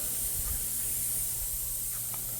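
A steady, even hiss of water spraying from sprinkler heads, constant throughout with no pauses.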